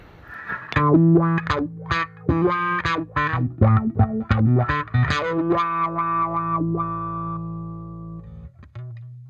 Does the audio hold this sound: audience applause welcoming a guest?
no